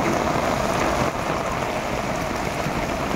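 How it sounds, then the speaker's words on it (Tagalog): Heavy rain pours steadily at a riverbank at midday, a loud dense hiss of drops that stays constant and fills the whole clip with no talk. "Malakas pa rin yung ulan."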